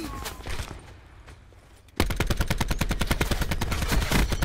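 Gunfire in the Blackout video game: a few scattered shots, then from the midpoint a rapid, loud burst of automatic fire with evenly spaced, sharp cracks that continues steadily to the end.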